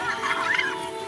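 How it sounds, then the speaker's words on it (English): Tasmanian devils feeding together give a brief, harsh, warbling run of squeals and growling calls, close and fairly loud. "The noises they utter while feasting are more than just an expression of satisfaction."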